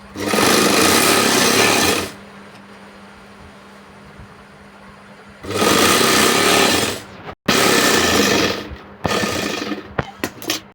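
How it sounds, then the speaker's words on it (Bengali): Sewing machine stitching folded sari pleats together runs in several loud, close, whirring bursts of a couple of seconds each, separated by quieter stretches of room noise. "এই যেটা হলো পাটগুলো এখন সেলাই করা হবে"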